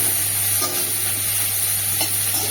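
Stalks cooking in a pan with turmeric and salt, giving a steady, dense sizzle with a few soft scraping strokes of stirring, close and continuous, with no talk.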